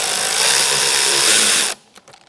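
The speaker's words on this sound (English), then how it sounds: "we're going to remove this hose clamp" A power driver with an 8mm socket spins loose a hose clamp in the engine bay of a 2012–2019 Fiat 500 1.4L, a loud, close, whirring burst that cuts off sharply, followed by faint clicks.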